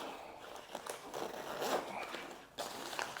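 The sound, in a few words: zipping up a life jacket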